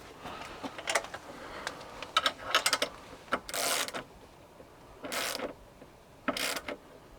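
Bursts of ratchet wrench clicking as bolts are tightened on SW-Motech luggage mounts for a Honda Transalp 750, coming in separate close runs of quick ticks with short pauses, and no voices.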